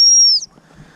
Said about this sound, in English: I've blown the sit whistle.